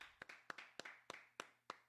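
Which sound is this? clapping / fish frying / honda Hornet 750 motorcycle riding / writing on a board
clapping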